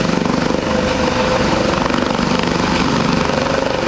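Coast Guard rescue helicopter hovering overhead during a hoist at an air show demonstration, its rotor a steady, loud, dense chop that holds throughout without pause.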